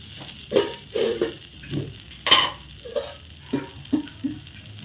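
A bun flipped in a pan of butter, with soft, faint sizzling broken by scattered short clinks and scrapes of a utensil.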